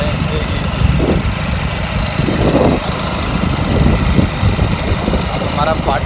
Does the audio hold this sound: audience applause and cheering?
no